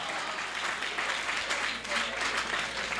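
Dense, steady applause from an audience at a Hindi-language stage event, a continuous wash of many hands clapping at moderate volume for about three seconds with no clear pauses.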